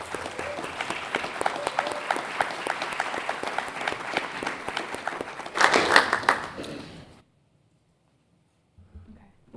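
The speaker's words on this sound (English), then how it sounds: "I would like for everyone to just give them a real big round of applause" Audience applause fills a board meeting room, steady dense clapping for several seconds that swells briefly near the end before cutting off to near silence, with a faint stir of sound afterward.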